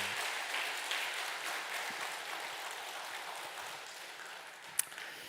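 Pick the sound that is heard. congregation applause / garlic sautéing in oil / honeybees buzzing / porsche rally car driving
congregation applause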